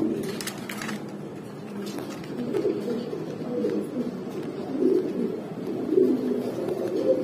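Black Barhuma pigeons cooing in a loft, repeated low soft coos in an uneven rhythm, close by, with a voice speaking faintly in the background.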